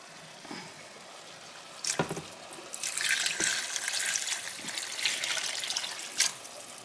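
Water running from a kitchen tap while making pasta fagioli, with a few handling clunks at first, then a steady rushing stream with dripping, close and fairly quiet.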